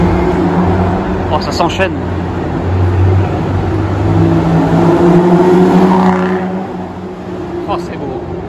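A Koenigsegg supercar with Swiss plates accelerates hard through Monaco streets, giving a loud, sustained engine roar that rises and holds, with brief higher whines. People talk excitedly over it.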